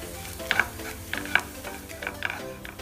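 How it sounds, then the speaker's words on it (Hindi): A spoon mixes roasted cumin powder and amchur into a Frankie masala, with soft repeated scraping strokes and a few bright metallic clinks against the vessel, close and fairly quiet. "मिक्स करेंगे मसालों को अच्छे से"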